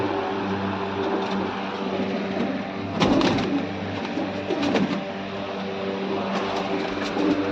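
Soft pigeon cooing repeats a few times against a steady hum of background traffic, with no talking.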